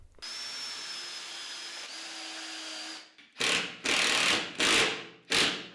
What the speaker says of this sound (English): With wood glue and a couple of screws, I attached the beech strips to the plywood.